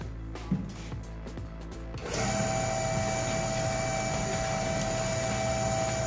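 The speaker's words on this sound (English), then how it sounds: "First, we're gonna fire up the husker." A homemade squirrel husker machine starts up after a few scattered clunks and rattles, settling into a steady, loud mechanical whir and hum that runs on with no talking.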